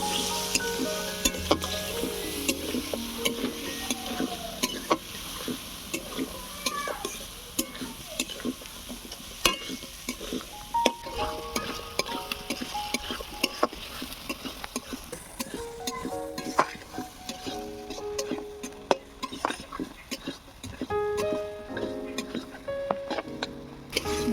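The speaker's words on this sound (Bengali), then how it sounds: "এবারে দিয়ে দেবো ধুয়ে রাখা আলু। এবারে ভালো করে কষিয়ে নেব।" Washed potatoes stir-fried in a pan, a continuous crackling sizzle with frequent rhythmic scrapes and clicks of a spatula against the pan, running steadily throughout.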